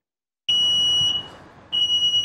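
A battery-powered smoke detector sounds two sharp, piercing high-pitched beeps, close and loud, separated by a pause of about a second.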